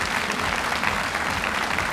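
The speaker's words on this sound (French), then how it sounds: "Je me demandais de l'accueillir et de l'applaudir très fort." A live audience at a Japan Expo stage claps loudly to welcome a Japanese guest artist, steady dense applause filling the whole moment without pause.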